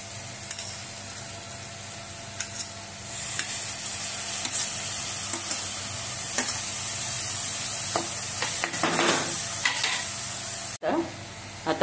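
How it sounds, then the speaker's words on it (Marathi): Dried fish (sukat) frying in an oily spice masala crackles and sizzles continuously, with scraping stirs and small spatters over a steady hiss, close and fairly loud, ending with a brief clatter. "आता आपण सुकट ऍड करूया।"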